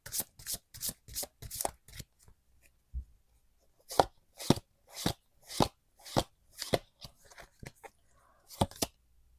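Tarot cards shuffled by hand in close, crisp bursts of snapping riffles, with a brief pause midway before the rhythmic shuffling resumes, quiet and near.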